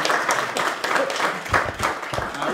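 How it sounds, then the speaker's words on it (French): Applause from a press-conference audience for a board member of a regional youth organisation, a moderate patter of clapping with a few sharper, louder claps near the middle and a faint voice underneath. "On peut l'applaudir comme ça."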